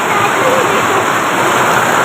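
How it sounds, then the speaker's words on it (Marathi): Heavy rain pouring down in a sudden downpour, a loud, dense, unbroken roar of water that fills the whole stretch, with a voice speaking under it. "लय भारी पाऊस आहे बघा मित्रांनो"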